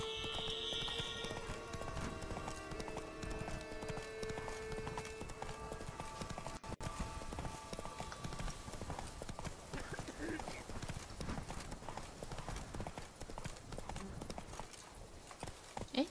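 Horse hooves clip-clop steadily at a walking pace in The Witcher 3, close and continuous, with a brief whinny early on and a person talking over the game sound.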